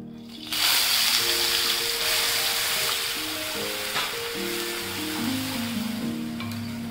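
A paste of kachri, garlic and chili hits hot oil with cumin and bursts into a loud, close, steady sizzle that keeps crackling, alongside faint tonal sounds in the background.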